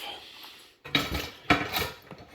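A metal sump comes off a Ross Performance dry sump engine with two close, sharp metallic clanks and some brief rattling, with no talking.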